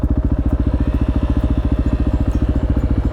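Motorbike engine runs close and loud at a steady fast throb with rapid even pulses, revving as the rider pulls away on the bike named Basil.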